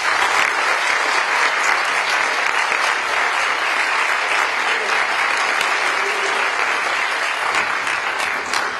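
An audience at a state tourism summit applauds to welcome Governor Jay Inslee, a dense, even wash of clapping from many hands that holds steady and loud for several seconds.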